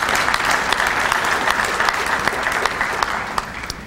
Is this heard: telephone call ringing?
no